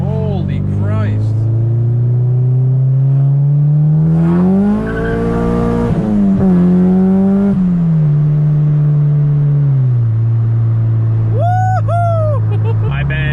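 A Honda Civic Si engine pulls hard while driving, its loud droning note climbing through the revs, dipping at a shift and rising again before easing off, with a voice briefly whooping near the end.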